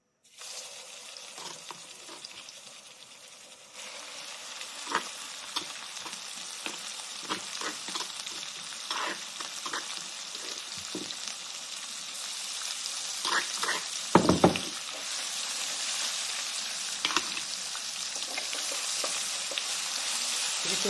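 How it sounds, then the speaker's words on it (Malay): Pounded chili and tempoyak paste sautéing in a hot pan for sambal tempoyak jering, a steady close sizzle and frying hiss that swells after a few seconds, with occasional stirring scrapes. "Kita tumis dulu bahan-bahan ni ya. Tempoyak tadi dengan cili itu semua kita tumis dulu."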